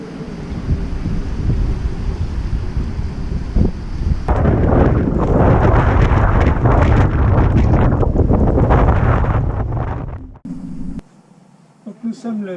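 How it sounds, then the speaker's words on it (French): Strong gusting wind of about 30 knots roars and buffets the microphone for most of the clip, surging louder midway before dropping off abruptly near the end. "Voilà ce que ça donne, 30 nœuds de vent."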